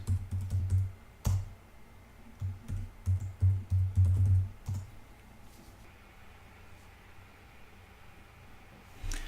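Typing a sudo apt update command on a computer keyboard, a quick close burst of key clicks followed by a few more taps, then quiet room tone.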